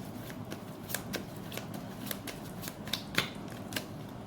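Tarot cards are shuffled close up in a quiet room, a soft, rapid run of riffling flicks and taps with no talking.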